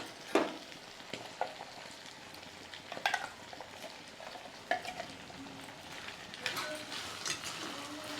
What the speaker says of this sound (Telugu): కలుపు బాగా, లోపల నుంచి కలుపు.